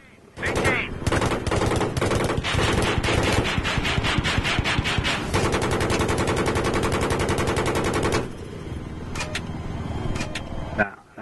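Video game gunfire, a close, loud stream of rapid automatic bursts and single shots running almost continuously before easing into quieter background noise, with players talking over it.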